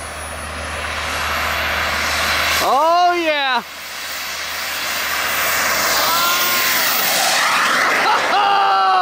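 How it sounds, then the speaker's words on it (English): A jet-turbine-powered R/C truck's engine spools up as the throttle opens, a loud rising whine with a sharp sweeping pitch climb, a brief dip, then another building surge, with a short excited voice heard over it. "I'm going to turn up the throttle on the jet a little bit."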